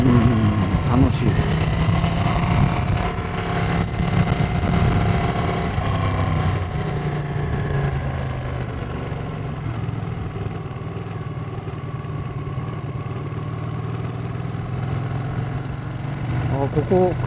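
A motorcycle is ridden along a road in an earthquake-damaged area. Its engine hums in a steady, mid-pitched drone, a little louder at the start, then evening out.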